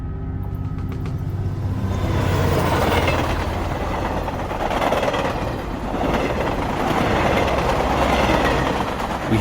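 A train rolls along the rails with a dense, continuous rumbling roar and rhythmic clickety-clack of wheels, loud and close, as if riding aboard a train car, swelling slightly in waves.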